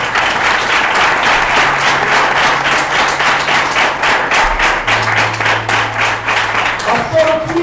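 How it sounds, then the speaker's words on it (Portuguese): Loud, sustained applause with rhythmic clapping from a church congregation during an evangelical service, many hands beating together steadily with a voice speaking over it. "Aplauda o nome santo do Senhor."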